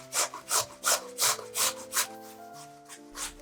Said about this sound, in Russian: картошку нужно натереть на крупной терке